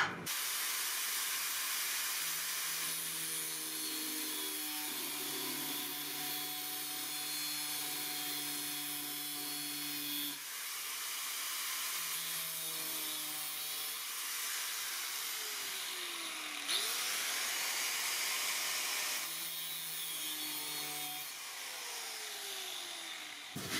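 A sword blade's tail being scored with a power tool so it can be snapped off, a loud steady grinding hiss with shifting whining tones running continuously and briefly dipping between passes.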